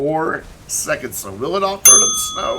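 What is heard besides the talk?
phone chiming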